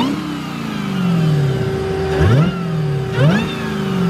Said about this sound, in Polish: Piękny dźwięk kompresora.